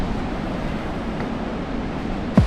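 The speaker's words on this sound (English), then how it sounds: "This is the first waterfall, Serena River." Waterfall on the Serena River in Costa Rica heard from about 31 meters away, a steady broadband rushing roar with no speech, ending in a brief sharp handling bump.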